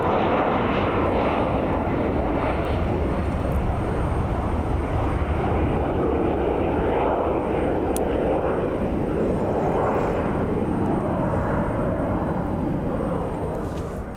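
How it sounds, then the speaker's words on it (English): A loud airplane engine roars steadily and continuously at Columbus John Glenn International Airport, a deep, broad rumble that stays heavy throughout with no talking. "It's a loud airplane."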